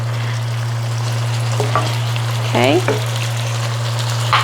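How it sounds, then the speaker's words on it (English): Spicy Korean tofu simmers in a pan with a steady bubbling sizzle under a constant low hum, while a voice briefly speaks over it. "So just let it simmer a little bit, and then sprinkle your sesame on top."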